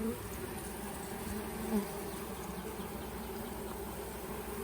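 Honey bees hum and buzz continuously around an open hive during an inspection on a hot summer day in a cotton field, a close, steady drone with one louder pass near the middle.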